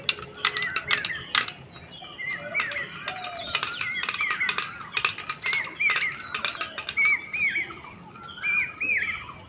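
A spoon stirs in a pot, with repeated light metallic clinks and scrapes in uneven bursts, while birds chirp and tweet steadily in the background.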